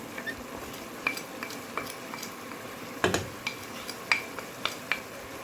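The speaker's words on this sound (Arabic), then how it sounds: "غادي نخلطو مزيان على ما يذوب ويتحك الماء ويرجع ينشف داك الماء" A spoon stirs Moroccan chicken pastilla filling with sugar in a pan, scraping and clinking against the metal in irregular taps, one louder knock near the middle, over a faint background with no speech.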